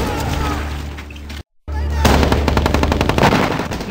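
Rapid carbine fire in the shooter game Medal of Honor Warfighter, loud close bursts of quick shots that break off in a brief dead silence, then resume as a steady automatic rattle while someone talks.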